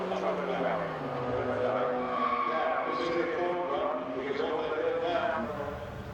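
Fiat Abarth 850 TC race car, rear-engined and built on the longer 600 chassis, running off course under braking on a hillclimb, with a loud, strained engine note and a descending tone that sustains throughout, under a commentator's voice.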